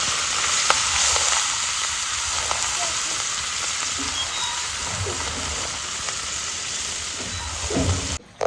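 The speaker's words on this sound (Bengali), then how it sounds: "আমার এখানে মাছ ভাজা হয়ে গেছে" Steady hiss and crackle of turmeric-and-salt-coated fish frying in hot oil, continuous sizzling close by with occasional soft knocks and stirring.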